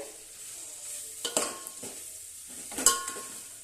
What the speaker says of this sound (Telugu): ఫ్రై చూడండి నూనెలో బాగా ఫ్రై అవుతుందండి